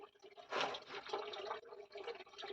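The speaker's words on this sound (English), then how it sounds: "I've got a waterfall behind me right here." A small waterfall running close by, a steady splashing, gurgling flow of water that swells and dips slightly, heard alone with no voices.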